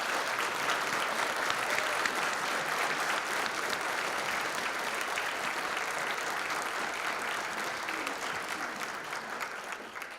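Sustained applause from a breakfast gathering audience recognizing event planners, steady and dense throughout, fading slightly at the end.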